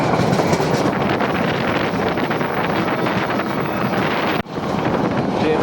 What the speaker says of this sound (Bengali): ট্রেন আবার কিন্তু কাজ নিতে শুরু করেছে